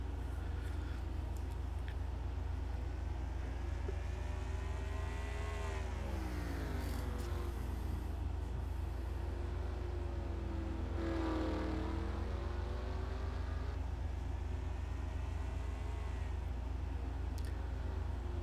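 Racing video game at Martinsville: a constant roar of stock-car engines fills the track, with individual cars sweeping past in rising and falling pitch as they brake and accelerate through the turns, loud and unbroken.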